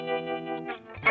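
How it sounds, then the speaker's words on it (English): Brief tremolo electric guitar chord with processed, shimmering sustained tones that pulse slightly before a new attack near the end, heard alone. "this is the tremolo guitar"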